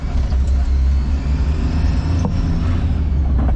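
A Japanese Kei mini truck engine drones steadily with the throttle floored in third gear, a loud, low rumble close by that holds constant throughout with no talking.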